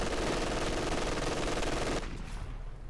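A sustained rapid burst of machine gun fire in a war strategy video game, dense and loud for about two seconds before cutting off into a fading tail, with no talk.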